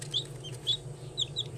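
Chicks chirping: a few short, high peeps scattered over a low, steady hum, quiet and close by.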